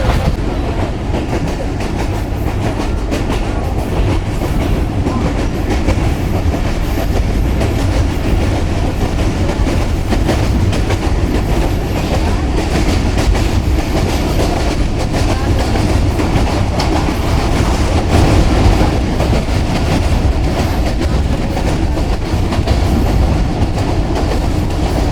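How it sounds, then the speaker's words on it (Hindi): The Millat Express runs at speed, with a loud, continuous roar of wheels and carriages and a rhythmic clickety-clack of rail joints heard from onboard. "मलकवाल से निकलते ट्रेन अच्छी स्पीड में आ गई है हमारी"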